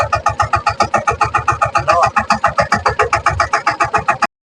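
A farm tractor engine chugs steadily in a fast, even rhythm of loud pulsing beats, close and continuous until it cuts off abruptly near the end.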